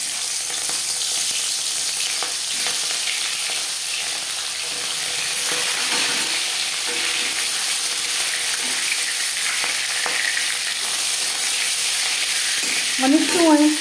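Aar fish head dropped into four spoonfuls of hot refined oil in a kadai, giving a steady loud sizzle and frying crackle throughout, with a sharper burst of spitting near the end; no one speaks.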